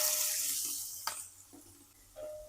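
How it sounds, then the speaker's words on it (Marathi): Tripe being washed in hot water in a kitchen, soft splashing and running water with a few sharp clinks and handling knocks, close and moderately quiet. "वजडी गरम पाण्यामध्ये 3 ते 4 वेळा धुवून घेतली"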